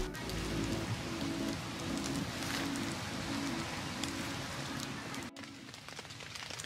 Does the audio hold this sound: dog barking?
no